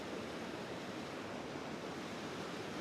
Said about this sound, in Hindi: और ये देखें आबशार का पानी, महूडन लेक में भी यही पानी जा रहा है।